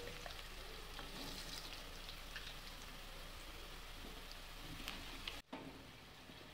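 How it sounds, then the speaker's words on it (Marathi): Green chilies frying in oil in a pan for masala khichdi, a soft, steady sizzle and crackle at low level throughout with a brief interruption near the end. "हिरवी मिरचीला तेलामध्ये जरासं परतवून घ्यायचं"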